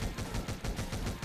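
Shooting in the Omega Strike video game, a fast, even stream of soft repeated blasts pulsing steadily at low volume with no speech over it.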